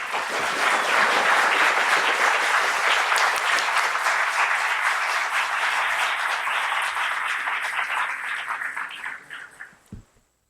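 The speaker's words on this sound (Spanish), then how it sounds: "Por favor, démosle un gran fuerte aplauso." An audience at an economics lecture event gives a professor a loud, sustained ovation of clapping that holds steady for about eight seconds, then thins out and fades to silence.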